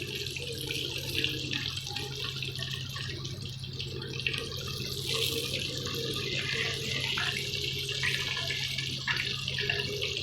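Chicken zinger pieces fry in hot oil, giving a steady, dense sizzling hiss that stays even and fairly loud throughout, with no voices.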